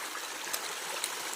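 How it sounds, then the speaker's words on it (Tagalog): Spring-fed stream running through forest near a mountain dead end, a steady close bright rush of water with faint trickling detail, continuous and alone. "Hanggang dito lang yung tubig na yan"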